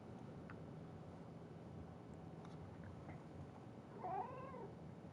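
A pet cat lets out a single short meow near the end, faint and somewhat distant over a steady low background hum.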